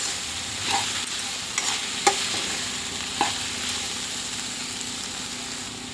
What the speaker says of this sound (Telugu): మధ్య మధ్యలో కలుపుకోవాలి లేకపోతే అడుగు అంటుతూ ఉంటుంది లో ఫ్లేమ్లో పెట్టుకోండి